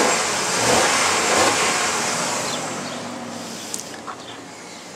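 A 2006 Dodge Durango SLT with a 4.7 liter engine runs smoothly at a steady, moderately loud hum with no voices, easing slightly quieter toward the end.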